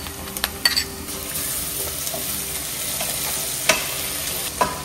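Ginger garlic paste frying in a pan for a homemade mutton liver curry, a steady close sizzle broken by a few sharp clinks and scrapes of a spoon stirring, with no talking.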